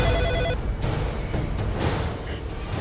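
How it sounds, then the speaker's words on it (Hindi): A telephone rings with a repeating electronic tone at the start, then gives way to a dull background rumble. "लगता है रेवा के स्कूल से फोन होगा"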